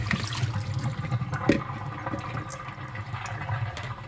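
Soaking water mixed with veggie wash, used to clean roses for rose water, is poured out into a sink, a steady gurgling splash with a few sharper drips and sloshes, close and moderately loud.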